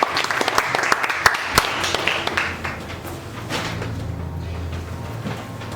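An audience at a comedy show on stage applauds a volunteer, with dense clapping and a few sharp nearby claps that fade away into quiet room noise.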